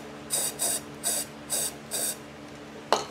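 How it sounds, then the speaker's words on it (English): A spray bottle fires five quick bursts straight down the tube of an Old Country insulated gravity-fed smoker, each short hissing squirt spaced evenly, close and clear, followed by a sharper final click. "I guess you have to spray it pretty much straight down the tube versus hitting the sidewall"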